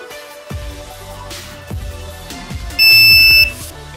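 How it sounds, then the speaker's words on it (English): An Arduino buzzer sounds one long, shrill, steady electronic tone, a Morse code dash, near the end, after several soft clicks and taps. "Now I am giving a dash."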